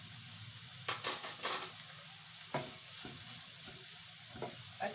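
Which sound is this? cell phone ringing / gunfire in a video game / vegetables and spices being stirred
vegetables and spices being stirred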